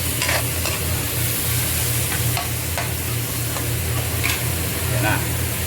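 Pork sizzles steadily in a pan for laing as it is stirred and shaken until browned, with scraping strokes over a constant close frying hiss.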